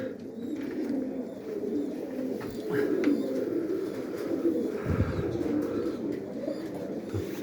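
Old pigeons coo softly in a loft, repeated low murmuring calls overlapping at moderate distance, with faint rustling and no talk.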